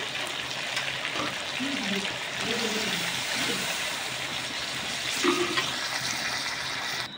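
Water gushes into a pan of browned chicken curry, a loud rushing pour over the sizzle of the hot meat, near and continuous, with a faint voice beneath.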